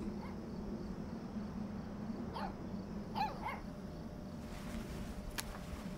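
A puppy in the video game Life is Strange 2 lets out a few short, fairly quiet yips and barks in quick succession, over a steady outdoor background of chirping insects.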